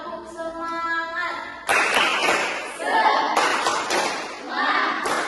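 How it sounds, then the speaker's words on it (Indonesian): A group claps together in bursts of quick rhythmic applause during a group counseling session, loud and close, after a voice speaks briefly. "Tepuk tangan sudah."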